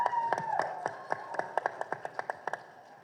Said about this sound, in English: Let's welcome with a big round of applause a charming actor that everybody is maddy about.